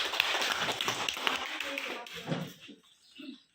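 Audience applause at a curriculum training event, a burst of scattered clapping from a small group that fades out after a few seconds, with a voice heard briefly over it.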